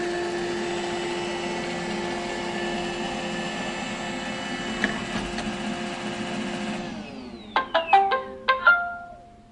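An iRobot Roomba i7+ robot vacuum finishing its cleaning run and heading back to its base: a steady whirring motor hum with tonal whine, then a short series of distinct rising electronic beeps near the end.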